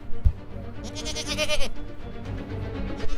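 A goat bleats once in a long, wavering cry in a dramatic haveli scene where it is being taken down for sacrifice, set against a low rumbling background with a brief thump at the start.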